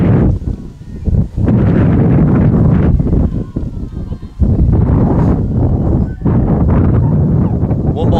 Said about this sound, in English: Wind gusts at about 40 miles per hour here. And they're getting stronger.